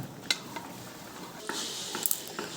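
Potato and paneer pieces poured into a simmering curry, a few soft splashes and stirring clatters against the pot, close and moderate over a low bubbling background.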